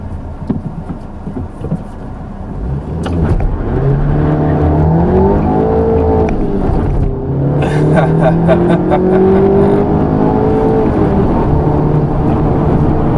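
A 2016 Audi TT TFSI roadster with a six-speed manual launches hard from a standstill, its turbo four-cylinder climbing through the revs with a quick shift dip before pulling again, loud and continuous inside the cabin.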